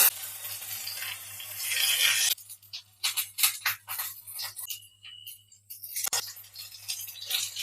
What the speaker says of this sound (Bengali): তেলটা গরম হয়ে গেছে, এবার একটা একটা করে বসিয়ে দেবো মাঝখানে